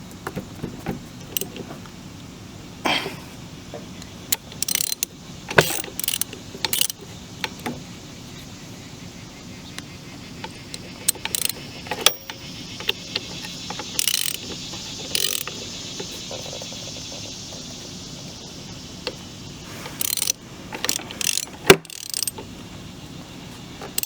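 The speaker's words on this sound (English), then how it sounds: "it's time for me to try and spin it over with a crowbar" A wrench on a bolt turns over the engine of an old Honda ATC 110 that sat abandoned for 25 years, giving intermittent metallic clicks, ratcheting and clanks in uneven bursts, close by against a quiet background.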